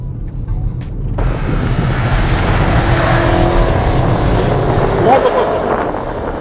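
A 2021 BMW X5M Competition engine pulls hard through a curve, a loud, steady engine drone swelling as the SUV accelerates, with a brief rise near the end and no talk over it.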